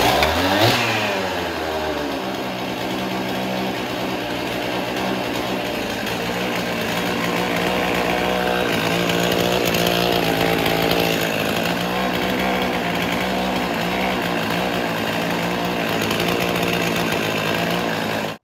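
A chainsaw fitted with a new aftermarket kit and run without its bar and chain starts with a quick rev, then idles loudly and steadily at close range, a buzzy two-stroke drone with no talking.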